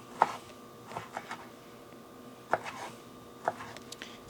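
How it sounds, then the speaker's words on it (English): Knife chopping Canadian bacon, pepperoni and Italian sausage on a cutting board for pizza mac and cheese, a few sparse, sharp close taps spread out rather than in a steady rhythm. "And I'm chopping up this stuff pretty small, I think."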